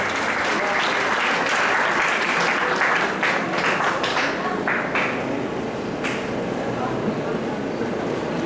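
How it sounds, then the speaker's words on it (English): An audience at a Japanese-Philippine conference on urban redevelopment of Tacloban City applauds a speaker, steady full clapping from a sizeable crowd that holds at an even level throughout and tapers slightly toward the end. "A round of applause, please."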